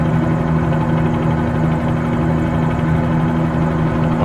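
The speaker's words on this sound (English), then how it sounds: "Another chance for me to get out in a helicopter." Helicopter engine in Microsoft Flight Simulator 2020, a constant loud turbine drone with steady low rotor hum and no voices.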